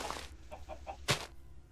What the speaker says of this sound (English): So as you can see, we have 9 chickens there.